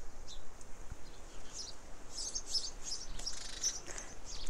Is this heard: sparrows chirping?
yes